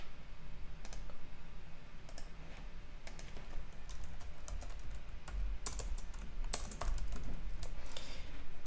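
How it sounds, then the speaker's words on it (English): Rapid clicking keystrokes on a computer keyboard during a programming session, irregular bursts of close, crisp taps continuing throughout with no talking. "Are you supposed to be typing something?"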